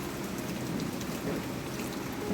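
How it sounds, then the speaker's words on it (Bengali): Rain falls in a steady, even wash of drops pattering on surfaces, moderately loud, with no voices. "কত বৃষ্টিটা পড়ছে দেখো"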